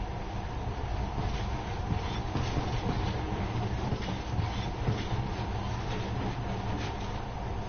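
In a PS4 video game, a monorail train runs with a steady, continuous rumble and rhythmic rail clatter, loud and close throughout, with no talking.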